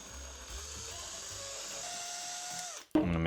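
Small power drill enlarging screw holes in plastic for self-tapping screws, a steady whining spin held for nearly three seconds, then a brief louder burst as it stops and starts again.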